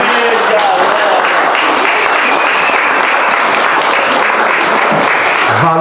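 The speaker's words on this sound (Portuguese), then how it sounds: "eu peço uma salva de palmas para a Casa Amarela aqui" Loud, dense audience applause for a poetry evening group at a cultural gathering, continuous crowd clapping close to the microphone with some cheering mixed in.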